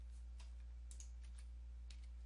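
Command being typed on a computer keyboard at a Windows command prompt during repair work, a few faint scattered keystrokes over a low steady hum, no talking.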